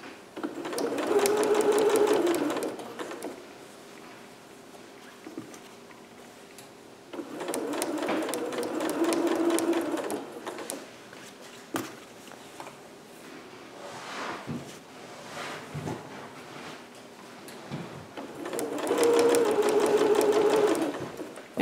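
A sewing machine stitches a seam on a Vogue 8280 cap-sleeve dress, running in three steady buzzing bursts separated by quiet pauses, close and fairly loud.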